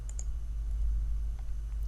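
A computer mouse clicking while working in Microsoft Excel, two quick light clicks near the start and another at the end over a quiet room hum.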